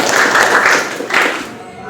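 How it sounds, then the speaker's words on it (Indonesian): A classroom of students claps for a classmate in a dense burst of applause that swells twice and then fades near the end. "Tepuk tangan untuk Levi"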